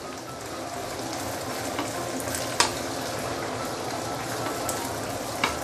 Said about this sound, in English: just use medium or medium low, slowly fry it